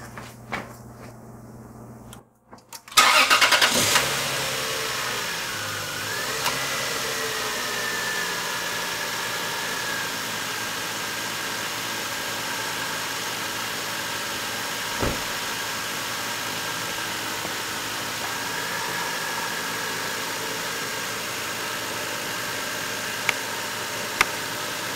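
Lexus GS300 with the 2JZ-GE engine after a valve cover gasket and spark plug job, cranking briefly before it fires into a loud start, then settling into a steady, smooth idle for the rest of the clip.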